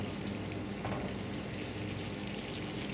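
Shelled, headless shrimp fry in a hot pan for pancit bato guisado, giving a soft, steady sizzle and crackle at low volume with a faint stir midway, no talk.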